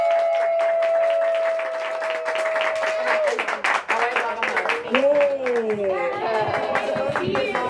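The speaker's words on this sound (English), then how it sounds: "Can we give a big round of applause for Meena?" Audience members, including children, clap for Meena Harris at her A is for Ambitious book event. The applause is mixed with a sustained high tone and excited young voices and chatter.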